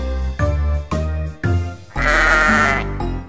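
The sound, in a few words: sheep bleating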